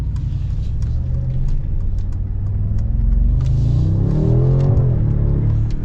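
A new Mercedes G63 with a twin-turbo V8 accelerates in Sport Plus mode. A loud, continuous engine rumble heard from inside the cabin swells and climbs in pitch toward the end.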